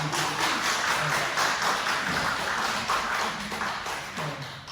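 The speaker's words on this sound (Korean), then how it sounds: "우리 다 같이 환영하는 마음으로 이렇게 박수 한번 해주시면" A church congregation claps to welcome a returning member at a Sunday worship service, a soft, steady patter of many hands heard at moderate distance, fairly even and unbroken.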